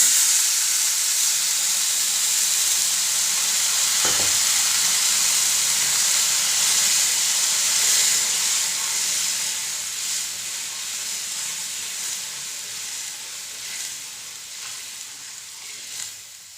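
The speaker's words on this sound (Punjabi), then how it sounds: "ਹੁਣ ਇਹਦੇ ਵਿੱਚ ਆਪਾਂ ਐਡ ਕਰ ਲੈਂਦੇ ਆ ਪਾਣੀ" Water is poured into a pan of roasted dalia with sugar, setting off a loud, continuous hissing sizzle that slowly fades over several seconds, heard close up without speech.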